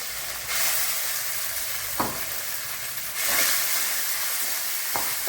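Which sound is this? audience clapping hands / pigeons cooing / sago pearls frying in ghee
sago pearls frying in ghee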